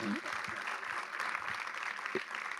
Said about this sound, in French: On peut vous applaudir bien fort.